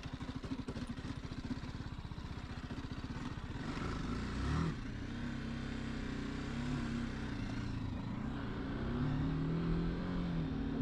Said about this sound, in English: Do a little acceleration test on the dirt.